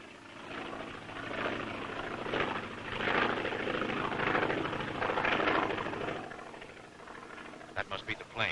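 A plane approaching to land drones loudly and steadily, its engine roar swelling and fading over several seconds, with a few sharp knocks near the end.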